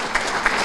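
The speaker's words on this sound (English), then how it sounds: "how about another round of applause for Andrew and Savannah?" Audience applause at a school district athletic hall of fame ceremony, a brief, dense burst of clapping filling the room with a couple of sharper claps standing out.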